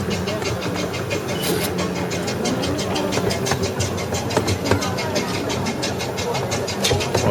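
Train ride at Exbury Gardens: a steady engine rumble with rhythmic clattering runs throughout, with people talking over it.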